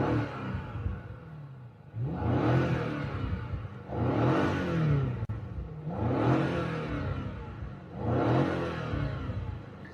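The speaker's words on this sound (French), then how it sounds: "le son des haut-parleurs combiné avec le bruit du moteur et celui de l'échappement se mélangent de façon très harmonieuse" A 2025 BMW M5's engine and exhaust rev loudly in four repeated surging swells, roughly two seconds apart, with a deep rumble beneath each rise and no talking.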